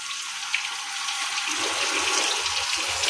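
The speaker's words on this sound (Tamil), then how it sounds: "புளி போட்டு கரைச்சி ஊற்றிடும்." Dissolved tamarind water pours steadily into a cooking pot for a few seconds as a continuous, close splashing rush.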